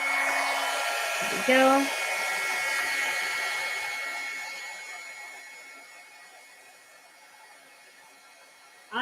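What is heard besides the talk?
heat embossing tool melting embossing powder on cardstock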